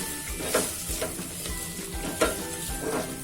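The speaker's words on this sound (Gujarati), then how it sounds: "આ બધું સરસ આપણે મિક્સ કરી દઈશું" Spiced sweet potato curry with turmeric, coriander-cumin powder and salt being stirred in a sizzling pan, a steady fry hiss broken by several louder scraping strokes of the spoon, close by and with no talk.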